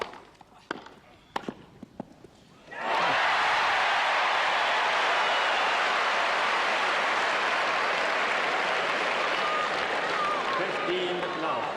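A Wimbledon crowd at the 1982 final between Jimmy Connors and John McEnroe breaks from a few scattered claps into loud, sustained applause and cheering that fills the stadium.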